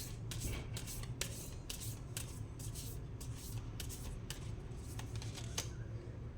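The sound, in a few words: tarot cards being shuffled and drawn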